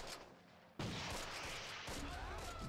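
Gunfire in the World War II strategy game Close Combat aimed at a Panther tank, a dense, noisy burst of battle sound that sets off abruptly and carries on steadily without a break.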